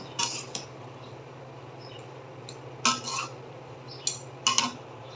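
Metal clatter of a lid settling onto a cooking pot holding vegetables with garlic paste and salt, a few sharp clinks in short bursts over a steady low hum.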